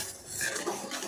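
A ladle stirs boiling tea in a pot at a tea-stall style kitchen, giving a brief scrape and clink of metal against the pot over a steady bubbling hiss. No one speaks.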